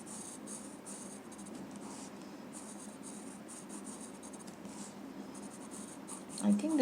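Pencil drawing on paper, a steady soft scratching and rubbing that runs continuously at low volume, close by, with no pauses and a faint bump at the end.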